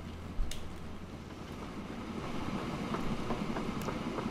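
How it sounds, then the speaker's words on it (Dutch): A cargo train from the Train Fever video game rolls along steadily with continuous rumble and rail clatter, one sharp click near the start, at moderate volume with no talking. "Ik heb hier nog een cargo trein zitten."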